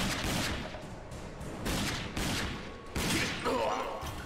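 Gunfire in the video game Rage comes as loud, close bursts of rapid shots in repeated volleys across the whole moment, with scattered game noise in between.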